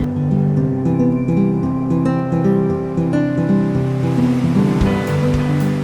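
A boat ride on the sea at Ao Tled in Nakhon Si Thammarat, Thailand, where loud waves wash against the hull over a continuous droning hum, with no talking.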